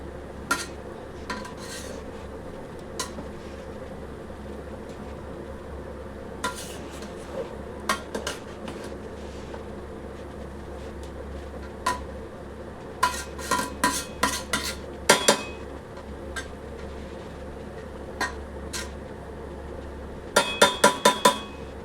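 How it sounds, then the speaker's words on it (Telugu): A ladle stirs cooked rice in a pot, with intermittent metallic scrapes and taps against the rim over a low steady hum. The taps come in brisk clustered bursts near the end, and nobody speaks. "ఆల్మోస్ట్ రైస్ అయితే ఉడికిపోయింది ఒకసారి కలిపేసుకుని ఎక్కువ కలపకూడదండి"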